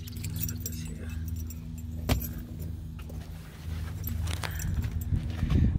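Car keys jangling near a 1957 Chevrolet Bel Air, a loose metallic rattle with one sharper clink partway through over a low steady hum, no speech.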